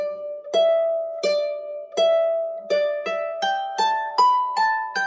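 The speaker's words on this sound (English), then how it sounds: "the first phrase of the B part sounds like this." The opening phrase of the B part of Half A Manx Second too Late on Manx harp, about ten bright plucked notes stepping upward and ringing into one another, played close and alone.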